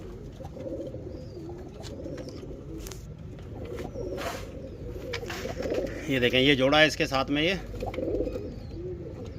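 A pair of domestic pigeons coos close by in rising, wavering phrases, loudest near the end, while someone speaks over parts of it.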